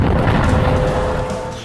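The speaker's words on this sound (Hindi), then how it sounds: "पहले धमाका, फिर पोस्ट का बड़ा हिस्सा ढह जाता है और आग लग जाती है" An anti-tank missile explosion hits an Israeli border post on the Lebanon border: a loud, sustained deep rumbling boom that rolls on and slowly fades, with no talk over it.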